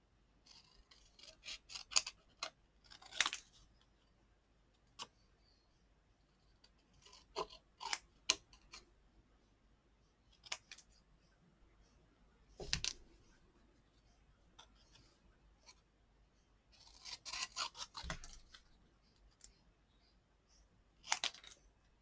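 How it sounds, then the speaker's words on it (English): Scissors snip in short, scattered bursts while cutting a stamped, white heat-embossed card piece from a Stampin' Up! Color & Contour stamp-and-die project, with clustered cuts and quiet pauses between them. "I'm going to cut it out."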